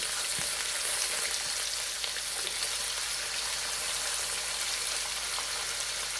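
Bacon and string beans sauté in an oiled pan, giving a steady, close hiss of sizzling throughout with a few faint scraping stirs and no talking.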